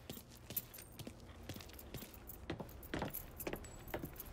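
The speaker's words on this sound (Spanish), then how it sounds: "Tú tienes las llaves, así que puedes conducir." Car keys jangle in the Mafia 3 video game in repeated metallic rattles and chinks of moderate loudness, with faint background ambience and no talk.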